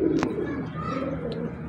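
A pigeon cooing close by: a soft, low throaty coo that runs steadily for under two seconds, with a brief sharp click near the start.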